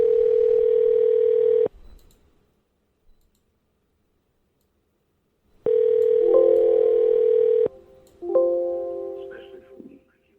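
A telephone dial tone sounds loud and steady for under two seconds and then cuts off. After a pause the tone returns, followed by a few short clicks and a run of stepped dialing tones before the line settles.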